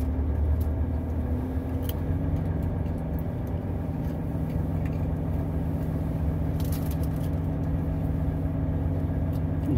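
Heavy traffic and truck engines on the Serra Anchieta descent: a continuous loud low rumble of idling and moving heavy vehicles with droning engine tones, occasional clanks and brief hisses, steady throughout with no speech.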